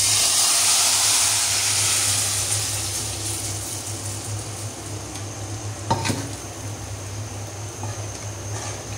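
Whole spices for a tadka sizzling in hot oil, a loud steady frying hiss that gradually settles, with a brief clink of a utensil partway through.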